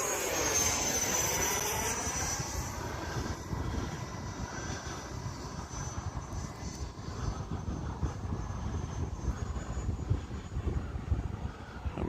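An E-flite F-18 Blue Angels RC jet flies past, its high whining engine loud at first and then fading as the model pulls away, with a sweeping pitch shift.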